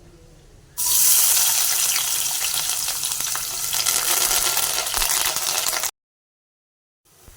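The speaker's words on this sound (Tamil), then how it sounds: "ஆயில் சூடாகிருச்சு வெங்காயம் கருவேப்பிலையும் போடலாம்" Onion and curry leaves drop into hot oil for a fish curry, bursting into a loud, dense sizzle that settles into steady crackling for several seconds before cutting to silence.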